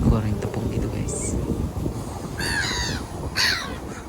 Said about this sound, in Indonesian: Tapi bahayanya nanti dimakanin sama ini nih, sama burung-burung ini. Ini pada suka nyuri ikan-ikannya nih.